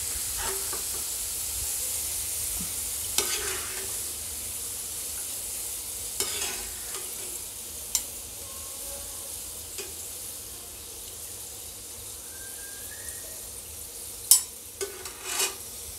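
Potato chivda frying in hot oil, stirred with a slotted spoon: a steady soft sizzle with occasional scraping clinks and taps of the spoon against the pan.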